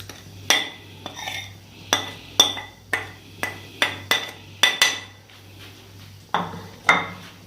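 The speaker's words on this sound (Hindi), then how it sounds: "ये हमने अब शेक नहीं करना, सिर्फ चम्मच की मदद से हिलाना है" A spoon knocks against a container while stirring an Oreo kulfi mixture, giving a dozen or so sharp, close metallic taps at an uneven rhythm over a faint steady hum.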